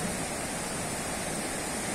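Broad, steady rushing of the Felidia river flowing nearby, an even wash of water noise with no breaks and no voices over it.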